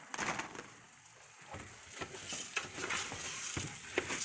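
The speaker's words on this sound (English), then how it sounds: "So I'm letting that rice saute a little bit in our raw butter, or in our butter, that raw rice." Raw rice sautéing in butter in a pan for shrimp risotto, giving a soft, steady sizzle with scattered clicks and scrapes of stirring close by, no talk.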